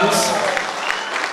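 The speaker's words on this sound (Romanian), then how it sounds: "Dați aplauze!" An audience at a traditional Romanian folk customs festival in Poduri, Bacău, claps in loud, dense applause. A voice talks over it.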